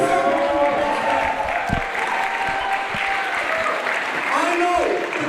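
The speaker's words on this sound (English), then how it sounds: "Give yourself a round of applause." A wrestling crowd at a prom-themed wrestling show applauds steadily for several seconds, with a few voices and some tonal sound mixed into the clapping.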